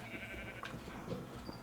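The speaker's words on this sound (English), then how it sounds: "I have a lot of sheep here" A few faint sheep bleats from the Minecraft video game, set on a snowy tundra farm, rising briefly over a quiet background hum.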